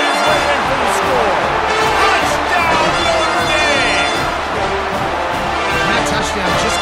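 A stadium crowd cheers a touchdown by Notre Dame against Appalachian State in the College Football 25 video game, a steady loud roar of fans running throughout while a voice talks over it.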